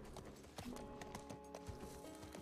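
Horse hooves clip-clop in steady repeated steps during play of the video game The Last of Us Part 1, faint and even, with no talking over them.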